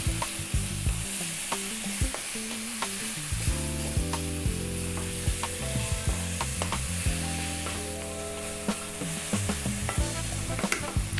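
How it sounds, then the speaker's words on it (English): Beef curry sizzles hard over high heat while it is stirred constantly, with loud, continuous frying and repeated spoon scrapes and knocks against the pan, close and busy throughout. "Another 4 minutes on this high heat, keeping it moving."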